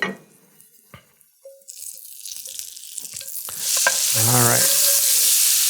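Butter goes into a hot pan for steak au poivre sauce and builds into a steady close sizzle and crackle after some clinks and handling noises, with one brief spoken word early on.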